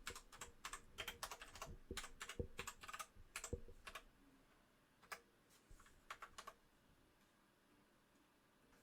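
Calculator keys pressed in quick bursts of clicky taps while working a trigonometry exam problem, a run of rapid presses, a pause, then a few more scattered taps, close and fairly faint with no talking.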